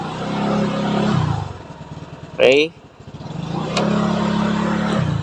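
Scooter engine revving as its CVT-driven rear wheel spins at about 3,500 RPM, a steady close motor drone with a brief higher-pitched rising whine in the middle, and someone talking briefly over it.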